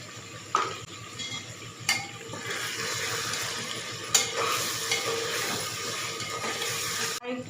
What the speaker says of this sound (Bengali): চিকেনটা তেল ছেড়ে দিয়েছে, আর একটুখানি ভেজে নেব